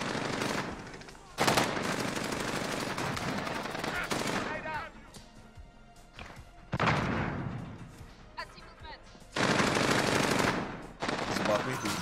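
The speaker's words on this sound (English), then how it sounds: "Somebody was shooting me from where," Call of Duty Modern Warfare gunfire from a G36C rifle, heard as long bursts of rapid automatic fire that are loud and close, broken by quieter gaps with distant shots and thuds.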